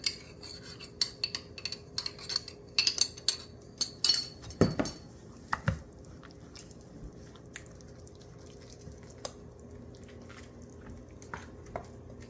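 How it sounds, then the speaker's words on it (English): Vegan split pea loaf mixture being stirred together with breadcrumbs, giving soft, quiet clinks and scrapes of a utensil against a bowl with occasional wet squishes, busier in the first half and sparser later. "So we're going to keep on mixing this for a little bit until everything is fully blended."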